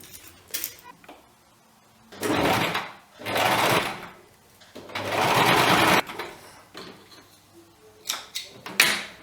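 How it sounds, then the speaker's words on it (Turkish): A sewing machine stitches the crotch seam of elastic-waist trousers in several loud, close bursts of rapid needle clatter separated by short pauses. Soft handling sounds fill the gaps between bursts. "Şimdi ağını birleştireceğiz. Ön kısmını bir dikiyoruz."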